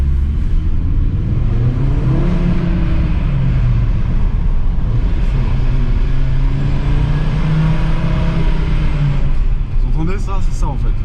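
A 2022 Audi RS3 engine rumbles and revs continuously in a deep, steady drone, with the pitch rising and falling as someone talks over it.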